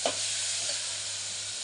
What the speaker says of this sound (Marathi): ती सुद्धा थोडं त्याचा कच्चापणा जाण्यासाठी आपण तिला आता छान परतून घेऊया